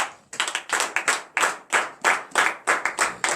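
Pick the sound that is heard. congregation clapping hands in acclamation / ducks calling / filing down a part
congregation clapping hands in acclamation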